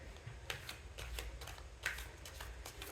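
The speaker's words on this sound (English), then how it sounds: "One more shuffle, please. One more shuffle." Tarot cards being shuffled by hand, giving soft papery riffles and flicks in an uneven rhythm, quiet and close.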